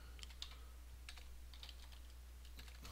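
Bursts of keystrokes on a computer keyboard, irregular clusters of clicks close by over a steady low electrical hum, with no voices.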